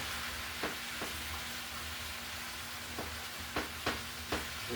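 Spinach stir-fried in a pan gives a steady low sizzle, broken by several sharp scraping stir strokes spaced irregularly, with a faint constant hum underneath and no talk.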